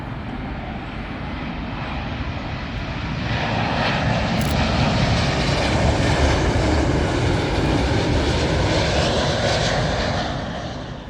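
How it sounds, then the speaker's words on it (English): An American Airlines Boeing 777 in from LAX roars in to land at Heathrow, its engine noise loud and close, building steadily and holding as the jet passes overhead. "Up next, American Airlines 777, and this one's coming from LAX."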